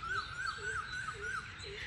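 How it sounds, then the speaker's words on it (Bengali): A bird in a city park in Kolkata repeats a clear rising chirp about every third of a second, with fainter lower calls and a soft background hum. "আর পাখির ডাক এত সুন্দর লাগছে দেখতে, এত সুন্দর শুনতে লাগছে"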